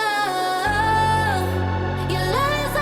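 A pop chorus with lead vocals thickened by stacked backing vocal layers over a full band, sustained harmonized lines riding a dense, loud mix throughout.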